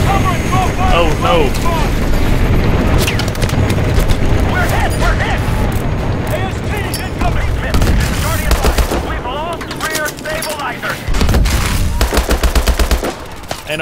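Call of Duty Advanced Warfare gameplay with loud, continuous automatic gunfire and heavy booming explosions, rapid bursts layered over rumbling blasts, while voices shout and talk throughout.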